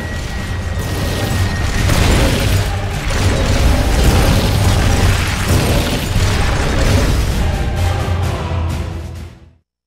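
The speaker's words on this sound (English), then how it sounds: "And fire! And down it goes." Weapon fire and an explosion from Metal Gear Solid: Peace Walker: a loud, sustained roar of booming blasts and mechanical clatter that runs for several seconds and then cuts off abruptly.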